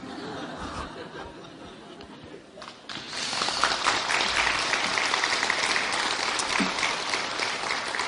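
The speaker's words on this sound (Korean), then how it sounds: "박수 받으려고 그런 게 아니고," Congregation applause during a church sermon, starting as a thinner patter and swelling into a loud, sustained burst of many hands clapping with faint scattered chuckles mixed in.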